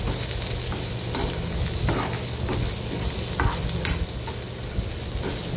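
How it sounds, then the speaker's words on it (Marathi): Garlic and ginger sauté with onion in a pan, a loud continuous sizzle with occasional scrapes and taps of a spoon stirring, no talking. "आता हे लसूण आणि आलं व्यवस्थित परतून घ्यायचं आणि नंतर मग सगळं कांद्याबरोबर ते मिक्स करून घ्यायचं।"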